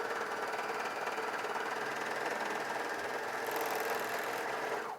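A Bernina 700D serger stitches and trims fabric with a steady, fast mechanical hum and rapid rhythmic chatter, close and even throughout, a brief brighter whir near the end, with no talking.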